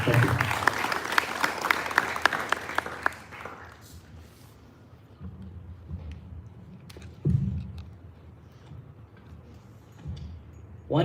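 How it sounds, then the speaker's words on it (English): Applause for participants at a sixth form leadership summit, loud clapping for the first few seconds that quickly thins out and gives way to quieter room sounds and scattered noises. "huge round of applause to all those who have participated today"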